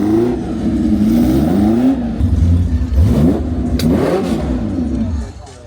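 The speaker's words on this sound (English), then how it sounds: "Porsche long tail, I think it's a 910. I'm not an expert, possibly 908, but fired up" A Porsche 910 long tail race car engine at a concours fires up and revs, rising and falling in loud, close bursts with a rough mechanical edge, voices faintly underneath.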